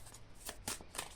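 Tarot cards are shuffled close by, a soft run of riffling swishes with a few sharper flicks, quiet and with no voices.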